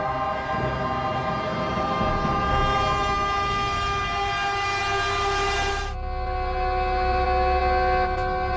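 A train approaches on the tracks, sounding a long, loud, sustained horn over the rumble of the wheels; the horn cuts off abruptly and the rolling rumble continues.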